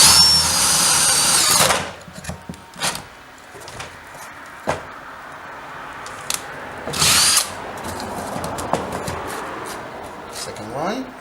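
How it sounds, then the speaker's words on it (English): A power drill boring into wood beads runs loud and steady for about two seconds, then gives several shorter bursts and a second brief run, with occasional clatter between them. "So drilling."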